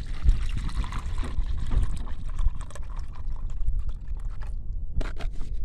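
Onion-peel soaked water poured from a jug onto okra plants in a garden, a steady close splashing trickle that runs continuously, with a brief louder gush near the end.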